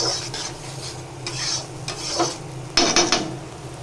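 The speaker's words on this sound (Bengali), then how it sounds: "এবার এটাকে ভালো করে কষিয়ে নিই।" Spice paste with turmeric and salt sautéed in a pan, a soft sizzle underneath repeated scraping strokes of a spatula, with a sharper louder scrape near the end, close and moderate.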